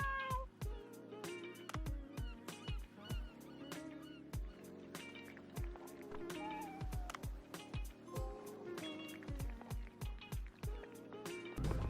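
Cat in the restaurant of the video game Dave the Diver, meowing repeatedly in short bright calls over a busy, rhythmic game music bed.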